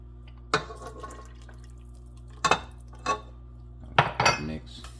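Utensil clinking against a bowl while mixing sweet potato pie filling with milk and sugar: a few sparse, sharp taps and scrapes, close and quiet, over a low steady hum.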